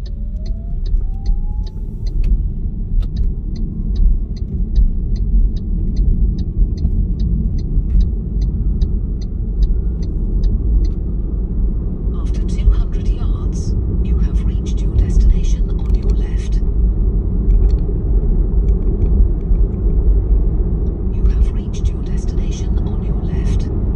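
A car drives along a road during a driving test, its steady engine and road rumble heard from inside the cabin, with a person speaking over it and a rhythmic indicator ticking early on.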